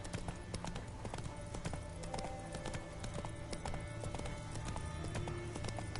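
Roach the horse gallops across a war-torn no man's land in The Witcher 3, hooves clip-clopping in a steady, quick rhythm at moderate distance over low ambient hum.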